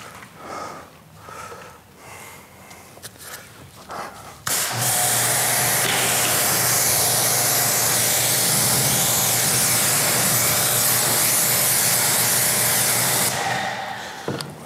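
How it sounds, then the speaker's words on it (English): After a quieter stretch of background noise, a loud, close, steady hiss of a spray bottle spraying cleaner on a Chevrolet Silverado 2500 hood runs continuously for several seconds before cutting off. "let's spray the hood now"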